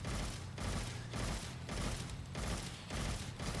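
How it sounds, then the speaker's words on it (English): Rapid burst fire from a gun in a video game, with loud, dense volleys in four or five regular bursts separated by brief gaps. "It makes each click like a burst fire."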